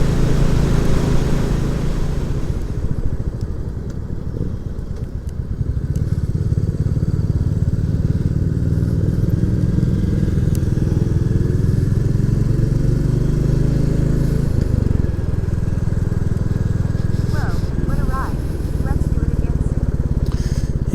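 Royal Enfield Classic 350 motorcycle climbing the steep Rosedale Chimney hill, its engine thumping loud and steady under sustained load, close up with wind rumble throughout.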